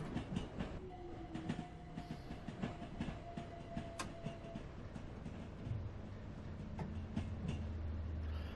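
Trains rolling along a route in the Train Sim World video game, with steady rail rumble and rhythmic clickety-clack of wheels over joints, occasional tonal squeals and a faint distant horn, continuous throughout with no talk.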